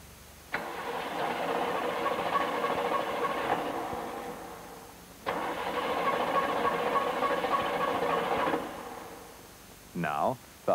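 A V8 engine with a conventional ignition system cranks over in two long bursts of steady rhythmic churning, each lasting about three seconds, with a brief mechanical squeal at the end.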